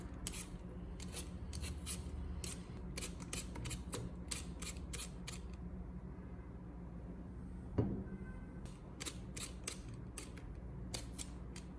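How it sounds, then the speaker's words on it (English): Potato skins scraped off with a hand peeler, a steady series of short, crisp rasping strokes repeating close up in quick rhythm, with a brief pause midway before the strokes resume. "use a peeler to remove the potato skins"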